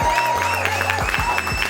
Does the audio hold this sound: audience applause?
yes